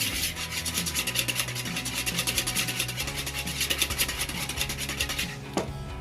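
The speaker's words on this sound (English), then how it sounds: "I'm going to go in that with a little bit of grated lemon zest and some lemon juice." Lemon zest is grated over a bowl for a sugar-free cheesecake, a fast rhythmic rasping close up that runs steadily for several seconds and then stops with a light knock.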